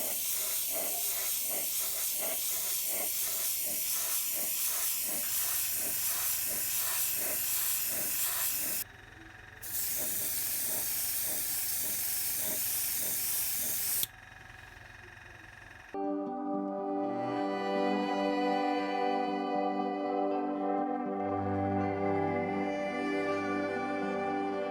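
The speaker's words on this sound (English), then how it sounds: "Undercoating here with Vallejo black primer." Airbrush or spray hiss applying Vallejo black primer undercoat to a display base for a model plane, a close, continuous airy spray broken by two short pauses, then giving way to a different, lower-pitched tonal hiss.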